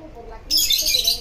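A pet bird gives a sharp squawk and chirps indoors at home, a sudden bright burst midway that continues over low room noise.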